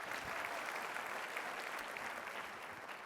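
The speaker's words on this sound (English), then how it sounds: "give her a round of applause" An awards banquet audience claps in a sustained, dense round of applause for an honoree, steady and full throughout at moderate distance with no pause.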